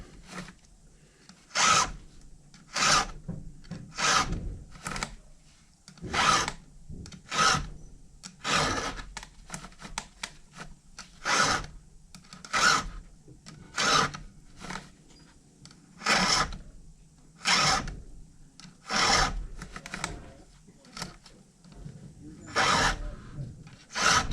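A chainsaw chain being sharpened with a hand file, steady rhythmic rasping strokes roughly one per second, close and moderately loud, repeating evenly for over twenty seconds with no talking.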